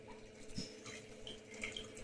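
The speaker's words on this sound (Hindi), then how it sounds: "एकदम क्लियर पानी आ रहा है" Clear water runs steadily from the outlet of a 100 GPD RO membrane on a low-pressure pump, a faint continuous trickle like a tap filling a vessel, with no voices.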